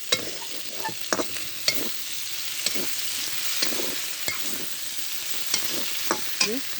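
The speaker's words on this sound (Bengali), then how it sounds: "আপনারা প্রথমে ওভাবে হলুদ ছাড়া ভেজে নেবেন এক মিনিটের মতো" Small tengra fish frying in oil in a pan without turmeric: a steady sizzle with scattered sharp clicks and scrapes as the fish are stirred, close and clear with no talking.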